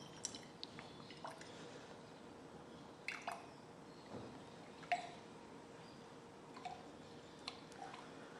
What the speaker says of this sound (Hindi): तो अभी मैं यहाँ पे ग्लास में पानी ले रहा हूँ।